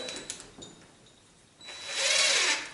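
Dewalt DCF885 18V cordless impact driver driving a 6x60 mm screw: a few light clicks and taps, then a loud, close, steady whirring burst lasting about a second before cutting off.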